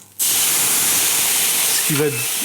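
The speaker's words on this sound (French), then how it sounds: "je jette le rhum dans la poêle" Rum hitting a hot frying pan over raised heat, giving a loud, steady sizzle and hiss that bursts in abruptly and holds, with a brief voice near the end.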